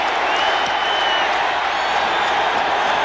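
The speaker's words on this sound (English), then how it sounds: "They started waving their arms, and the crowd came alive." A large American football stadium crowd at a Saints game roars in a steady, broad wash of cheering and applause that holds loud and continuous throughout.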